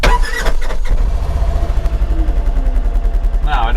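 An off-road vehicle engine, a Polaris Xpedition, cranks and catches, then settles into a loud, steady rumbling idle close by.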